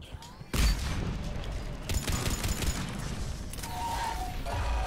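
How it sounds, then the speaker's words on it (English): Explosions and gunfire in a firefight in Mass Effect: Legendary Edition, with a sharp boom followed by dense, continuous crackling shots and mechanical clatter filling the scene, loud and close throughout. "That's a grenade."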